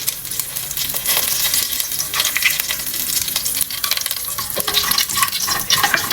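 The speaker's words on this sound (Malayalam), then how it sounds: "കറിവേപ്പില ഇട്ടതിന് ശേഷം നല്ലതായിട്ടൊന്ന് വഴറ്റിയിട്ട് വറ്റൽമുളക് കൂടെ ഇടണം." Curry leaves sautéing in hot oil in a pan while making Kerala beef roast, a continuous close crackling sizzle with scraping stir sounds, steady and fairly loud throughout.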